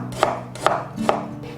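Washed unpeeled old ginger sliced on a board for stir-fried pigeon, three crisp knife chops at a steady, unhurried rhythm, close and clear with no talking.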